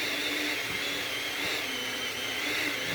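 A cheap $16 electric hand mixer whirs steadily as it beats vanilla into four cups of powdered sugar, a continuous close motor drone with no talk over it.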